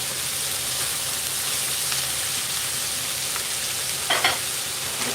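Rice noodles (bihon) frying in a pan, a loud, continuous hissing sizzle close up, with a brief burst of stirring near the end.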